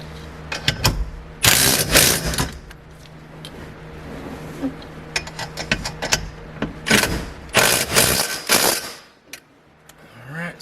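Steering column hardware on a Motion Raceworks install being tightened with a ratchet wrench, giving bursts of rapid clicking that come and go with pauses between them, up close and alone.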